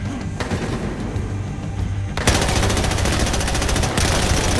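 Gunfire in a Battlefield Hardline shootout: a loud, sustained rattle of automatic weapons with booming shots layered over a dense battle din, growing heavier partway through, no voices.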